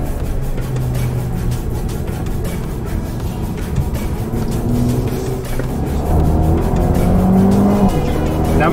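A Mercedes-AMG on winter tires corners on a race track, heard from inside as a loud, sustained engine drone with shifting revs and a rising pitch toward the end, with tire noise beneath.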